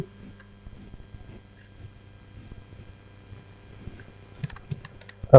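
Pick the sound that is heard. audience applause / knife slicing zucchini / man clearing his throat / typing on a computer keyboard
typing on a computer keyboard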